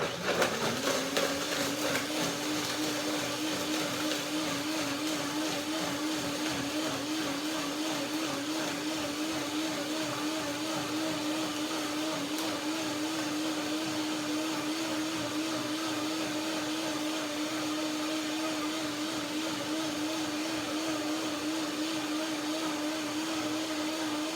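A kitchen blender runs continuously at full speed, whirring loudly and steadily as it purées goji berries, vanilla and cashews into a creamy dressing.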